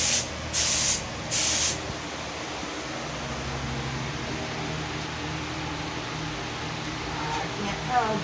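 A garage door is spray painted, the aerosol hissing in two loud bursts near the start over steady background noise, followed by quieter ambient hiss with faint activity near the end.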